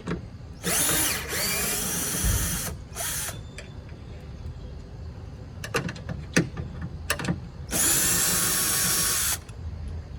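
A power tool spins out a liftgate strut bolt on a Toyota Highlander, two loud sustained whirring bursts with short blips between, close up.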